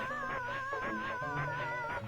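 Pac-Man's scream from the Super Nintendo version of the video game Pac-Man 2: a continuous, warbling, wavering synthesized wail with a buzzy, gritty texture, holding steadily for about two seconds.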